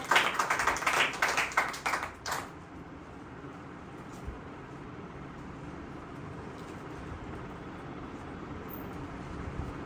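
A church congregation claps together in a fast, loud burst of applause for about two seconds, then it drops away to a low room hum.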